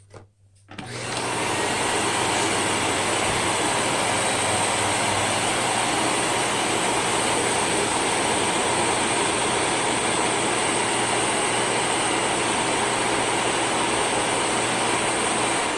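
A Miele vacuum cleaner fitted with a new non-charcoal HEPA exhaust filter runs at its maximum 1100 watts, starting with a brief thump and then a loud, steady, unbroken whoosh with a constant hum throughout.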